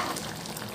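Chicken 65 biryani mixture being stirred in a hot pan, giving a brief, steady sizzle and scraping of frying ingredients with no voices.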